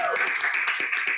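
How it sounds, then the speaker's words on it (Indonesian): A few people clap on a small indoor talk show set, quick close, dry hand claps in an uneven rhythm over a brief moment. "Kita tepuk tangan dulu dong teman-teman di rumah ya."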